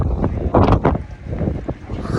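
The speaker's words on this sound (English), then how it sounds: "Here we are outside again in the wind." Wind gusting across an open cruise ship deck on a Bahamas voyage, a steady broad rush with stronger buffets early on, fairly loud and close against the microphone.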